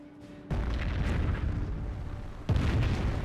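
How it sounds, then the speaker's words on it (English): Nebelwerfer rocket artillery firing in the Company of Heroes video game: a loud roaring launch bursts in abruptly after a quiet start, then a second sharp blast follows a couple of seconds later, both heavy and rumbling. "Nebelwerfer firing over here"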